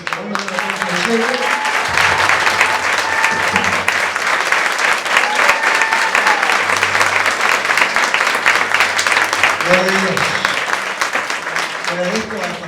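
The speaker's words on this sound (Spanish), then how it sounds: "ese aplauso, si fue para mí, fue demasiado" A church congregation at a congress in Yerba Buena, Tucumán breaks into sustained, dense applause that fills the room for several seconds, with someone speaking just before and after it.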